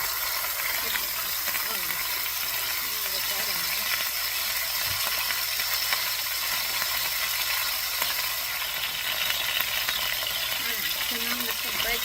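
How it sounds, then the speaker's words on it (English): Elk meat hitting hot oil in a pan for red and green enchiladas, a constant loud sizzle and hiss with stirring scrapes of a spatula running throughout. "Okay, so the oil's ready. I'm just going to add my meat."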